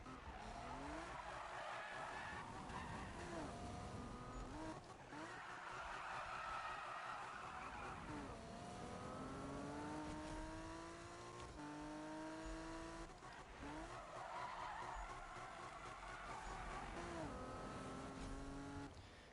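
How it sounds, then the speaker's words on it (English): A Toyota Supra tuned to 1030 horsepower drifts in the video game Need for Speed (2015), its engine revving in rising sweeps while tires squeal in long, loud waves that come and go, with no talk over it. "See, this car can drift even on grip."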